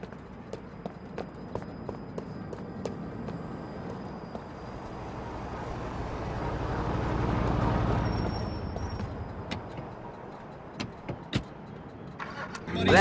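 A car in the video game Grand Theft Auto IV passes by, its engine swelling to a broad rumble and fading, with footsteps and scattered clicks and taps around it.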